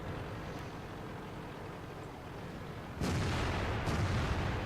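In the World of Tanks video game, an M103 American heavy tank fires a single loud cannon shot partway through, cutting through steady rumbling engine and battlefield noise that grows louder afterward.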